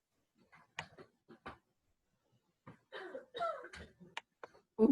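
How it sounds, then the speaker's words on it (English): A single person coughs and clears their throat close to a shared microphone, short dry bursts scattered between quiet gaps, with brief murmured talk around them. "Oh, good cough."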